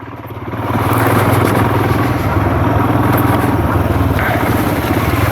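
A Royal Enfield Himalayan motorcycle on a UK trail pulls under added throttle, its engine a loud, continuous, steady drone close up with some mechanical clatter and wind noise.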